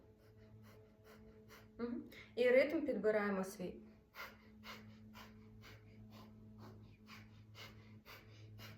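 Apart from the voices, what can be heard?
rapid breath of fire breathing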